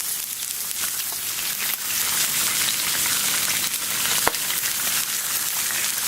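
Bacon and onions frying in grapeseed oil on a Camp Chef flat top griddle give a steady, close sizzle that holds throughout, with a sharp tap or click partway through.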